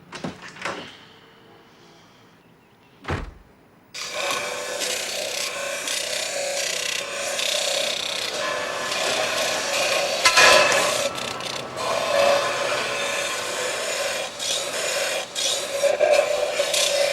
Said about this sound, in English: Grind it at an angle. Goes faster, less pressure.